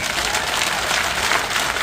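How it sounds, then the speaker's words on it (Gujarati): Dense, steady applause from an audience at a community gathering, many pairs of hands clapping together continuously and loudly throughout, with no voices standing out. "બે હાથથી તાળીઓ પાડી કહો મને"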